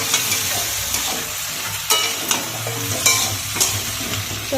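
Fish sizzles steadily as it fries in a pan, with repeated scraping clacks of a spatula stirring the thick pieces at close range.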